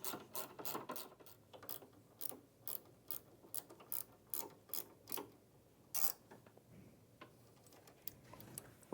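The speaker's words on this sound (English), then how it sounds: "you can now tighten all 4 shoulder bolts, starting with the linkages" A ratchet tightens shoulder bolts on the buffer brush linkages of an ATLAS floor machine, making a quiet, rhythmic run of rapid clicks in short bursts, close up.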